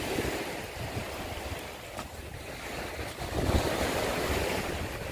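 Sea waves surge and wash steadily along a forest shoreline, a continuous broad rush of surf with wind buffeting the microphone and a swelling surge near the end.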